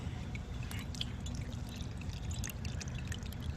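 Water is poured onto a clay sample, a faint, steady trickling and splashing that runs unbroken throughout, with no one talking.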